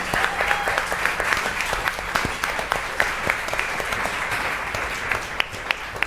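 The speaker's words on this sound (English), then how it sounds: "Can we give them a round of applause?" An audience at a charity chef showdown event applauds the chefs in a dense, sustained wash of clapping that stays fairly loud throughout.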